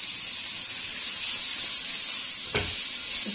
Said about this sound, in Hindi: 1 मिनट के लिए इसको फ्राई कर लेंगे।